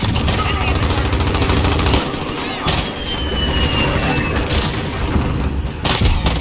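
Chopper gunner firing in Modern Warfare on the Shipment map: dense, loud rapid booms and gunfire bursts roll continuously with explosions, crashes and a whining tone, while a player talks over the barrage.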